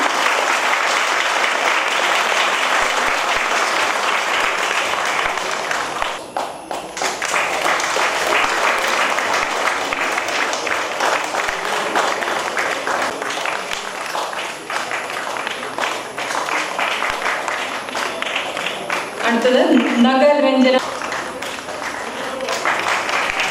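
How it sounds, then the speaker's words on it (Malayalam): Sustained applause from a large crowd at a yoga day event fills the room, with a brief lull partway through and a voice rising over the clapping near the end. "കുറച്ചുകൂടി നല്ല കൈയടി കൊടുക്കാമെന്ന് തോന്നുന്നു"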